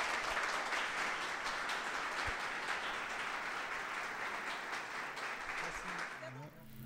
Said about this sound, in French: Mesdames, messieurs, je vous demande de l'applaudir chaleureusement s'il vous plaît.